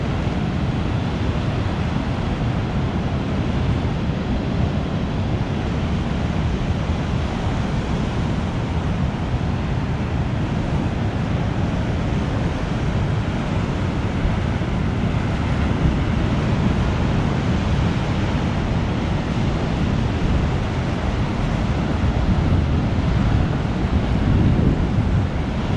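Ocean surf pounds steadily at Seal Rock beach on the Oregon coast, a dense continuous roar of breaking waves mixed with wind buffeting the microphone, with no voices.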